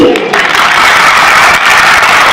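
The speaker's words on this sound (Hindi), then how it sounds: "तो आइए तीनों सेक्शंस में हम लोग तालियों को कॉम्पिटिशन कराते हैं" A school gathering audience claps and cheers loudly and continuously, the sections of pupils competing in a sustained, dense roar of applause that fills the whole stretch.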